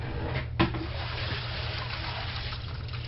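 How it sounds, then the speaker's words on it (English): Water runs steadily through a utility sink drain with a replacement tailpiece extension, giving a continuous close rush and gurgle, with one brief knock near the start. "now let's run water through"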